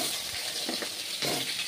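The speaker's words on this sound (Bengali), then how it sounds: "দেখো, খুব ফুটছে এই মাছটা, ফোটে এইগুলো।" Pangas fish frying in hot oil with cinnamon and cloves, giving a steady close sizzle with a few louder sputtering bursts throughout.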